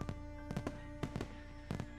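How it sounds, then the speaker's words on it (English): Fireworks burst in the Katawa Shoujo visual novel, a scatter of soft, muffled pops in irregular clusters, faint beneath a steady musical drone. "Both of us stare at the fireworks fixedly through the canopy of the trees, enthralled by the show."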